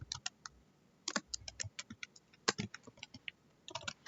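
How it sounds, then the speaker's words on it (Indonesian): Quiet, steady typing on a computer keyboard, with irregular clusters of light key clicks and short pauses between runs, alone with no voices. "Kemudian di sini kita bisa mengetik"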